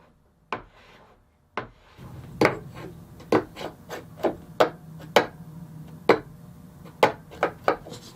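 A No. 3 hand plane is pushed along a maple scarf joint for an acoustic guitar neck, giving a series of about a dozen close, crisp rasping strokes in a fairly regular rhythm.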